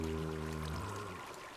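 Water spills from a placed source block in Minecraft, a soft pouring, flowing rush with a low tonal hum fading out partway through, quiet and close.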